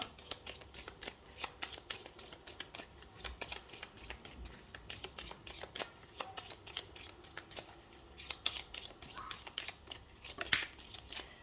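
A deck of oracle cards is shuffled and handled in a steady run of crisp riffles and flicks, close and fairly quiet, with no talking over it.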